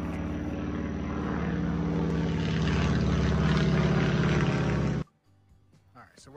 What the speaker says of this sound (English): Somebody needs to tell that airplane we're filming.